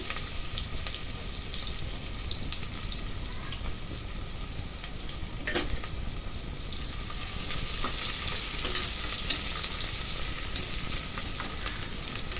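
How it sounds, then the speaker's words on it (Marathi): Chopped onion frying in hot oil with cumin seeds in a pan, a steady broadband sizzle with occasional stirring scrapes throughout, fairly close and continuous, no voices. "आता कांदा चांगला लालसर भाजून घेऊ"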